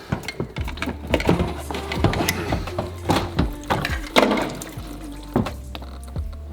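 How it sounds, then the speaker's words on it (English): Windshield wiper fluid spilling and splashing during exhaust manifold work on a BMW E46 330, irregular liquid gurgles and splatters mixed with clunks and rattles of tools and parts over a low steady hum. "I just spilled a lot of the windshield wiper fluid."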